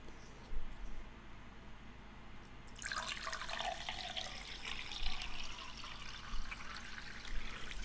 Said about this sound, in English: I'm gonna pour myself a glass of water